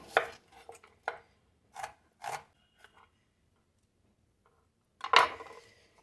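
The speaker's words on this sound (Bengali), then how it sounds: "একটা আমি পেঁয়াজ কেটে নেব" An onion is sliced with a knife on a board while preparing a Bihari-style salted bhuja snack, giving a few separate crisp cuts, then a pause and one louder chop close by.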